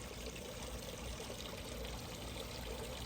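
Water trickles steadily from three features in a garden pond, producing a continuous, even, moderately close rushing patter with no breaks.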